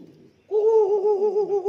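Pigeons kept as fighting birds coo in a sustained, close, fairly loud run of throaty warbling calls, following a short stretch of quieter low rustling.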